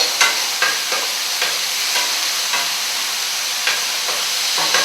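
Chicken and mushroom pasta sizzles loudly in a pan as it is stirred and tossed, with repeated scraping pushes every half second or so over a constant frying hiss.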